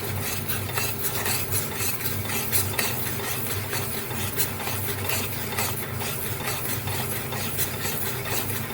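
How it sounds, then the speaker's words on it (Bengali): Katla fish pieces stirred with turmeric and salt in a pan make a continuous close scraping and shuffling over a low sizzle, with faint utensil clinks throughout. "আর নুন দিয়ে ভালো করে মিশিয়ে নেব"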